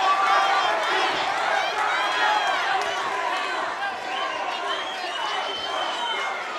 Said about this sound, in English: you can hear the chanting of both of these fighters' corners